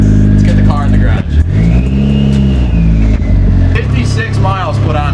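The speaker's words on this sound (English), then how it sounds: "Let's get the car in the garage." A car pulls into a garage in the countryside, its engine droning steadily with some revving, loud and close, while a person talks over it.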